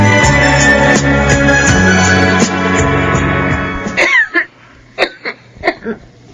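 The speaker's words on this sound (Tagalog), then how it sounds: "Kanina ka pa ubo ng ubo ah." Several short, harsh coughs from a woman in a radio drama, arriving in a loose cluster of four or five bursts right after a musical interlude fades out.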